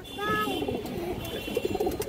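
A female pigeon coos softly nearby in low, rolling murmurs, while a person talks alongside the bird.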